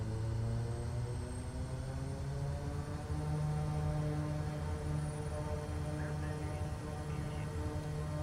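A Kodiak 100 propeller plane in Microsoft Flight Simulator 2024 roars steadily during its takeoff run, a constant droning engine tone with layered harmonics and no letup.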